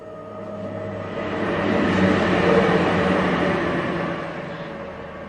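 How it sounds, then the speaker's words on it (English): A train rumbling past outside an open window, a broad low roar that swells steadily to a peak around the middle and then slowly fades, continuous with no voices. "you hear the trains go past a lot louder than usual"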